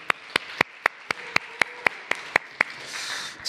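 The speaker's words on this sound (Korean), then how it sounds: "다시 한번 박수 드리겠습니다." At a Sunday church service, hands clap in a slow, evenly spaced beat, about a dozen crisp claps in unison ringing in a quiet hall before a brief swell of noise at the end.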